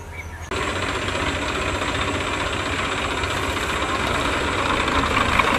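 A tractor engine works in a village field during plowing: a steady, loud, low diesel drone that kicks in abruptly after a brief quiet start and holds constant, with no talking.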